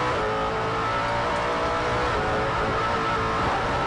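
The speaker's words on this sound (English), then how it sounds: "Let's listen to the engine here." FIA GT1 race car from the 2010 season at Paul Ricard, its engine roaring steadily through a corner with dense, continuous loud noise and no talk over it.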